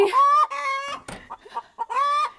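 Backyard hens cluck and sing loudly and close by after laying eggs, with drawn-out tonal squawks at the start and end and choppier clucks between.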